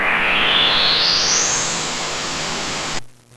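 AI-generated music track opens with a loud electronic noise sweep that rises steadily in pitch for about three seconds, then cuts off abruptly into near silence.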